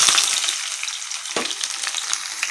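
Onions frying in hot oil, a loud, close, crackling sizzle that fades slightly, with a few stirring scrapes and taps against the pan.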